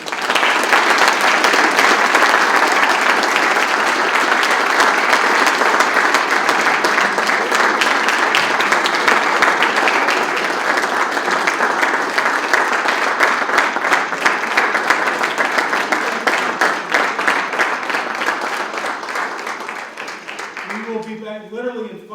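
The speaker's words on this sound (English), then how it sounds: "join me in a round of applause for our class of 2019" Sustained, loud audience applause honoring a Hall of Fame class of 2019, a dense wash of clapping that holds steady for about twenty seconds before thinning out, with a voice emerging near the end.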